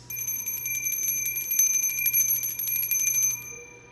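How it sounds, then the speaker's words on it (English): A bell rings continuously in a rapid, shimmering trill for about three and a half seconds, bright and fairly loud, then cuts off and leaves a faint low hum behind. "Every time a bell rings, an angel gets his wings."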